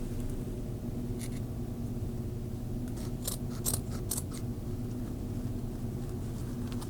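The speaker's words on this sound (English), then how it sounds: "I'm going to trim the extra right here" Scissors snip fabric several times in a quick cluster, crisp and close, over a steady low machine hum as extra material on a sewn hat band is trimmed off.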